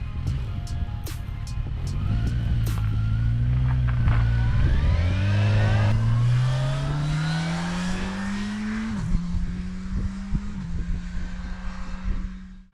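A Kawasaki Ninja 1000 SX motorcycle engine pulls through the gears while riding, its pitch climbing steadily, then dropping at a shift and carrying on. Loud, close and continuous with wind noise.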